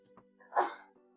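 A single short sneeze, close and fairly quiet, with a faint breath before it, during a tabletop game night.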